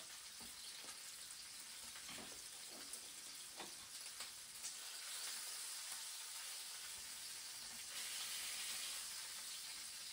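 Rabbit legs fry in a pan of hot fat for a mustard rabbit dish, a steady, dense sizzle with scattered small pops and crackles, continuous and close with no talking.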